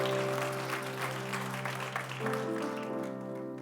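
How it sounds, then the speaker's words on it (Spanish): Church congregation clapping in praise to Christ during a Spanish-language worship service, a steady round of applause over sustained keyboard chords that starts to thin out toward the end. "Denle ese aplauso fuerte a Cristo,"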